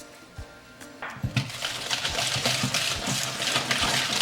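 Rum poured into almond cream in a bowl for a frangipane galette, a few soft knocks followed by a steady close liquid splash and gurgle, fairly loud and without speech.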